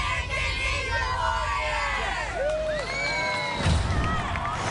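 Kids from a camp cheering at a Ninja Warrior competition, a loud crowd of high voices yelling and whooping with rising and falling shrieks, continuous and close.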